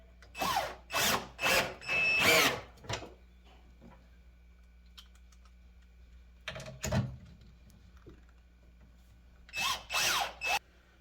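A power tool drives stainless steel lag screws into an ARB fridge slider mount, with several short whirring bursts in two groups separated by a quiet gap, close and alone with no talk.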